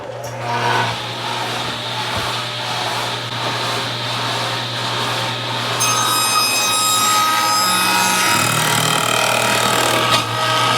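A power saw cuts through a wooden board for a bathroom shelf: a loud, steady whining drone with a constant low hum, the tone shifting partway through as the blade works into the wood.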